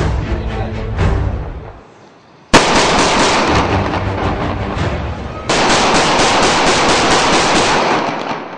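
Rapid bursts of automatic gunfire from military rifles during Iranian special forces training, loud and close, with a short pause before two sustained, dense volleys of shots.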